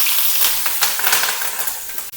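Mustard seeds and urad dal fry in hot coconut oil while tempering for curd rice, giving a close, crackling sizzle with scattered pops that ends in a short sharp tap.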